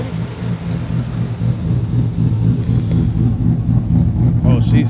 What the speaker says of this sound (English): You heard this truck already? Oh, she's chopping nice.